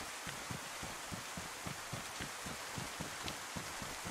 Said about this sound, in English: The snow sounds like rain.